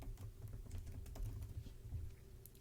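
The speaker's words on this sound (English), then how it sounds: "a lot of times I like to actually type the name of the font" Soft, quick keystrokes on a computer keyboard as a font name is typed, an irregular clatter of taps at close range and low volume.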